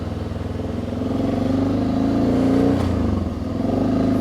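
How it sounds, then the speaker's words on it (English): A taxi pulling in at a roadside mountain spring water stop in Albania: a nearby car engine idling and revving with a rough, clattering hum that builds and eases, with a brief knock near the end and no talking. "So look, this guy came in his taxi."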